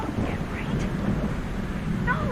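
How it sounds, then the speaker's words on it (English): Thunderstorm and rain ambience on a Minecraft Universal Studios tram ride, a steady wash of rain and low rumbling thunder throughout, with faint chirping sounds on top. "so I apologize for the rain"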